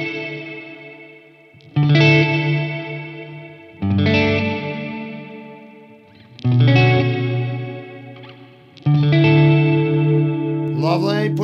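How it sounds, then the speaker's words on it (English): An MXR reverb pedal in mod mode gives loud guitar chords, struck four times at steady intervals, whose long reverb tails waver with a noticeable vibrato and chorus shimmer, with a brief brighter scrape at the end. "there is a pretty noticeable vibrato effect, chorusing effect on the reverb tails there"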